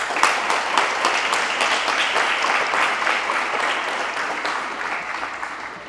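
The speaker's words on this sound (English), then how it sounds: "Can we get a round of applause for that beautiful?" A dense, loud round of applause from an audience at an 8th grade promotion ceremony at RISE Academy, sustained and even throughout before tapering slightly.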